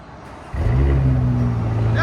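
A 2023 Porsche Cayenne S with a 2.9L twin-turbo V6 running straight pipes fires up after a quiet half-second, settling into a loud, deep, steady idle rumble close by.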